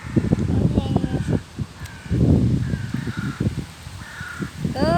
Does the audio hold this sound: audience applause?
no